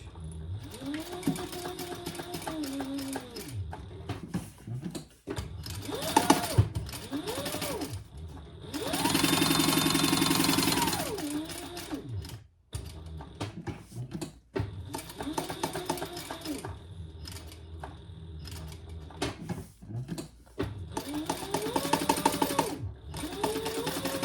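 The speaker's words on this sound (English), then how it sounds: "Now we're going to baste 1/8 of an inch all the way around, or top stitch." A sewing machine top-stitches around a fabric wallet with a coin pouch in close, loud bursts of rapid mechanical whirring, several runs broken by short pauses and one longer steady run, with brief talk between stitches.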